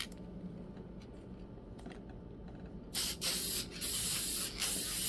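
Aerosol spray coating a candle jar, a bright steady hiss starting partway through, with two brief breaks between bursts, after quiet shuffling handling sounds.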